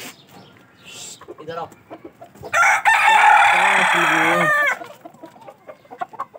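Loose chickens cluck around a home yard while a rooster lets out one loud, close crow lasting about two seconds, with a person calling briefly nearby.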